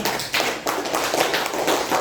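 Audience clapping at a school writing workshop, a fairly close burst of irregular claps and taps lasting a couple of seconds, loud and uneven.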